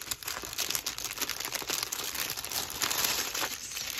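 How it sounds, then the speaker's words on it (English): A plastic mail package bag rustles and crinkles steadily and close up, with denser crackling toward the end and no talk over it. "Sorry about the rustling"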